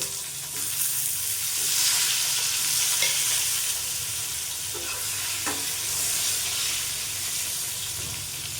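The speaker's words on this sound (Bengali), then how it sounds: "ওই তেলের মধ্যে বেগুনগুলো ভেজে নেবো" Eggplant pieces fry in leftover hilsa fish oil with a loud, dense, continuous sizzle and steady hiss, close and unbroken, with a few faint clicks of stirring.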